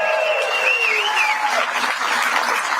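Applause rolls through a large crowd at an outdoor political rally in Canada's national capital, a dense wash of clapping heard from amid the audience, with cheering voices and a whistle-like cry on top.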